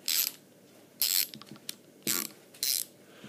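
The ratchet handle from a Halfords Advanced socket set clicks in four short, crisp bursts, close and fairly loud, with quiet gaps and a few faint mechanical ticks between them.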